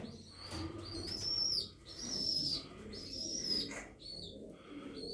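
Austrian king pigeons in a breeding loft cooing softly, with brief wing flaps and a few high chirps from hatchlings, faint and close, several calls spread across the stretch with no talking.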